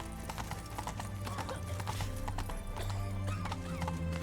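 Roach, the horse in The Witcher 3, trots with rhythmic hoof clip-clops and a snorting whinny. The sounds are close and steady, layered over dense in-game ambience and music.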